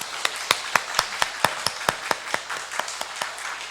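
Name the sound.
congregation applauding the choir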